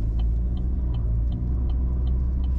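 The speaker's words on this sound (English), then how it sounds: "a quick little drive around town just to test this setup" A car driving around town, heard from inside as a steady, loud low engine and road rumble with a faint regular ticking, like an indicator, over it.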